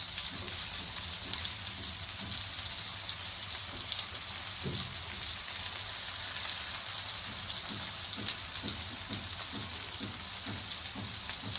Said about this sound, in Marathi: आणि असं एक एक पीस टाकायचं आहे आपण तव्यावरती फ्राय करण्यासाठी